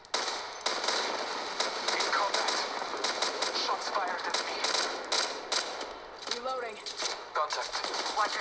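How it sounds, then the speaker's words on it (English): Gunfire in the mobile shooter Apex Legends Mobile, with dense bursts of rapid automatic shots and scattered single cracks over constant game sound, as in-game voice callouts speak over the shooting. "Shots fired at me."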